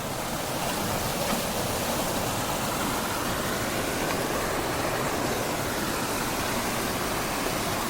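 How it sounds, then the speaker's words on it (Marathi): Loud, constant rushing water roars without pause from a strong stream at a diversion channel nearby, filling the whole clip. "हे बघा किती पाणी येते"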